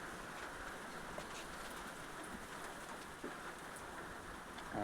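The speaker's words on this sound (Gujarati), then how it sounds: "વરસાદ આવે છે, આપણે" Rain falling steadily on a surface, a dense, even hiss with scattered close drops that tick and patter over nearly five seconds, quiet overall and with no voices.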